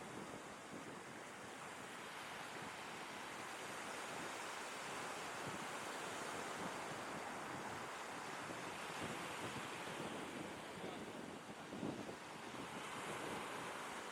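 Ocean surf at sunrise on a tropical beach, a continuous broadband roar of breaking waves mixed with wind buffeting the microphone, steady throughout with no voices.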